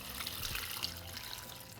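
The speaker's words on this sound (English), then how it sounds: "We're going to cover it with water." Water pours into a pot holding dried guajillo and ancho chile pods and a Roma tomato, a steady, continuous rushing fill at close range with no talk over it.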